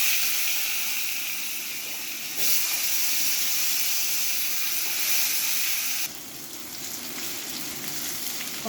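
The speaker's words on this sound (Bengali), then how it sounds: "আলুটা ভেজে নেব।" Potatoes frying in hot oil with dried red chili and five-spice tempering, a dense, continuous hiss and sizzle, close and fairly loud, swelling slightly midway then settling lower.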